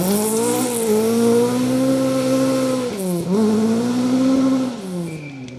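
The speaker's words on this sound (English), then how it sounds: "Steve Chaplin and Rich Souter snaking their way out of the hairpin and off into the distance towards the end of stage 4" A rally car powers out of a hairpin on stage 4 of the Wyedean Rally forest stage, engine revving loud and close with rising gear pulls, a brief dip and a shift change before it recedes slightly at the end.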